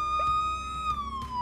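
A police car siren from the Brick Rigs video game wails in a steady, loud electronic tone that slowly glides downward, with a soft rumble underneath.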